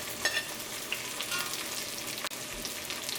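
Onion, crushed ginger and garlic frying in a pan for Kerala chicken curry, a continuous close sizzle with soft stirring scrapes and a single sharp tap near the end, no voices.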